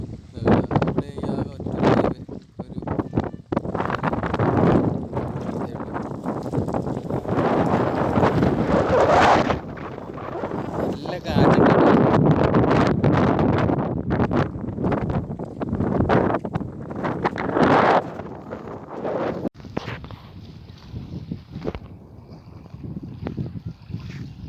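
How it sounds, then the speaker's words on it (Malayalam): Strong wind buffets the microphone at a lakeside bird sanctuary in Kannur, a loud continuous roar with gusty surges. Waves splash over onto the road nearby, and a person talks intermittently beneath the rumble. "നല്ല കാറ്റുണ്ട്"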